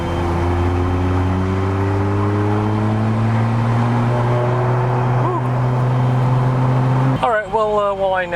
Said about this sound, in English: A lot of the modified 1JZs and 2JZs are very loud.